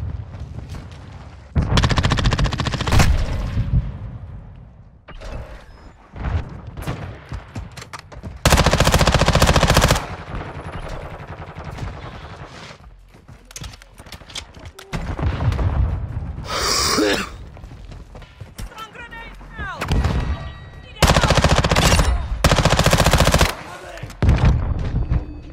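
Sustained bursts of automatic MPX submachine gunfire in Modern Warfare 2, loud rapid volleys repeating in several long strings with brief pauses and quieter game noise between.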